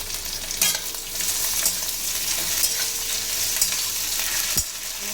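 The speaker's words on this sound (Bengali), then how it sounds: "আলুটা লাল লাল করে ভাজা হয়ে গেছে" Potatoes browned in a pan with a spoonful of sugar and whole garam masala sizzle steadily and loudly, with a couple of sharp stirring clanks from a spoon against the pan.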